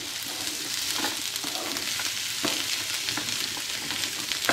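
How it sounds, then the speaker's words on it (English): Vegetables for sesame shrimp stir-fry sizzle steadily in a hot pan, a continuous close frying hiss with small scraping stir noises throughout and no talking. "now you're gonna want to stir up all your veggies inside the pan. Let it cook for a little while"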